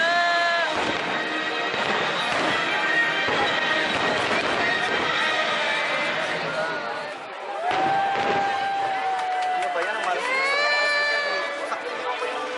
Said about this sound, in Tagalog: Naabutan ko yung fireworks!